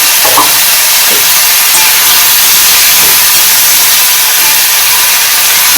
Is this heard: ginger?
yes